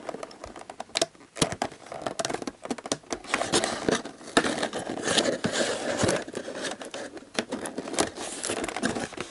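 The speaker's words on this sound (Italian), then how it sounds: "quindi forbici alla mano, tagliamo qua lo scotch." Scissors cutting through packing tape to open a toy package of scented Pikmi Pops, close crinkly scraping and snipping with irregular bursts of clatter and rustle, no speech.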